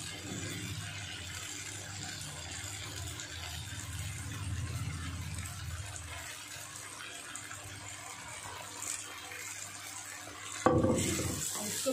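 Schezwan noodles being stirred with tomato sauce in a pan, a soft continuous sizzle with occasional scraping stirs, ending in a brief louder clatter.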